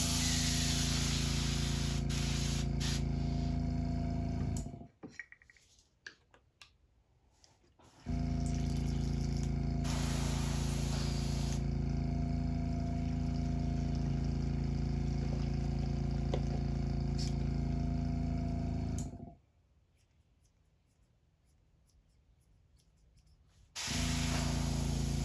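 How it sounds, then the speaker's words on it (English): An airbrush being cleaned out after painting a custom crankbait lure sprays in long, steady, loud hissing bursts: one short blast, a long continuous spray of about eleven seconds, a pause, then a final spray starting. "Clean my airbrush out."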